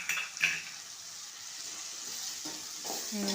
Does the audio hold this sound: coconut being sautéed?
yes